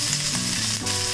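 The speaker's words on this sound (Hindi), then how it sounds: "तेल गरम हो रहा है, और अब इसमें हम डालेंगे प्याज" Sliced onions frying in hot mustard oil for Punjabi rajma masala, a continuous close, even sizzle with light stirring, no voices.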